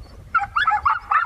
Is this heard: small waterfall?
no